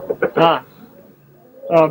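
Roller pigeons cooing at a loft, two close, loud throaty coos separated by a short pause, with a couple of softer calls before the first.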